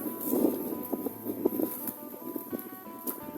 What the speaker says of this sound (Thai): บรรยากาศท้องทุ่งนาอีสาน ยามแรงแรง ลมก็แรง